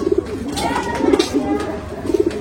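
A Rampuri pigeon coos close by in soft, throaty repeated bursts, three short rolling calls over a couple of seconds.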